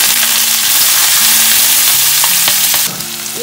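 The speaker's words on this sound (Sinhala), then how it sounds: "මේ තෙල් ටිකටම ඉඟුරු සුදු ලුණු ටික දාලා ඒකත් හොඳට බැද ගන්න" Ginger, garlic and vegetables fry loudly in hot oil, a dense, constant close sizzle with occasional stirring knocks, easing slightly near the end; no voices.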